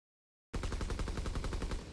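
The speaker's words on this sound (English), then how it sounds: "Gunfire aplenty, but the battle's taking place inside the ship at this point." Rapid automatic gunfire in Call of Duty WWII during a CWL Atlanta esports match, a loud, steady rattling burst that starts abruptly after a brief silence, with the fighting taking place inside a ship.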